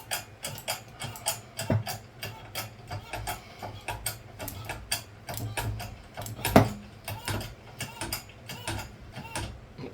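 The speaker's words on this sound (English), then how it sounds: "This is a 20 ton hydraulic press." A 20 ton hydraulic press works on a UK 50 pence coin with irregular mechanical clicks, ratcheting ticks and creaks, plus a sharp crunch partway through, all close and fairly quiet.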